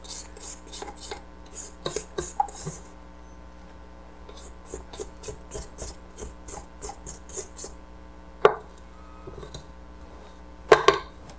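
A spatula scrapes around a mixing bowl of white chocolate icicle batter, giving a run of soft rasping strokes in a steady rhythm, with two sharper knocks near the end.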